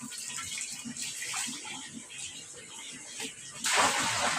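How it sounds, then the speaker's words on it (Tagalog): Tap water runs into a plastic drum during household chores, a steady rushing flow that swells louder and brighter near the end, with faint voices in the background. "Ngayon ay maglagay tayo ng tubig sa drum."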